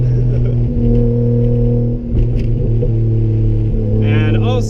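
A 1JZ VVTi-swapped Nissan 240SX S13 holds a steady, loud engine drone with harmonic rumble and throttle blips, and a high squeal near the end hints at tires spinning.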